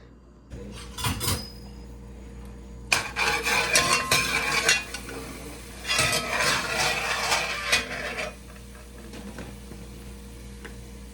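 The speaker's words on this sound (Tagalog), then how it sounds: "gigisa ko muna yung aking lamas" Ingredients for a sardines and pechay dish are sautéed in a pan, giving spatula scrapes and clanks in several bursts over a constant low background hum, with no talking.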